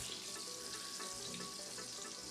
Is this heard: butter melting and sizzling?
yes